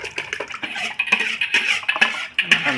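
Stir-fried vegetables tipped from a pan into a pot of coconut milk, with sharp metal clanks and scrapes of utensil against cookware in irregular bursts, close and clear.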